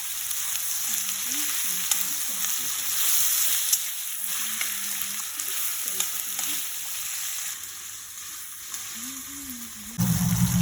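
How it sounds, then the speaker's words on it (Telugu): Steady oil sizzle of ginger garlic paste frying in a pan, with occasional scraping stirs, and a brief louder burst of sizzling near the end. "ఇందులోనే కొద్దిగా అల్లం వెల్లుల్లి పట్టించుకొని వేయించుకోవాలి"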